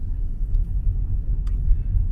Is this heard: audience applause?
no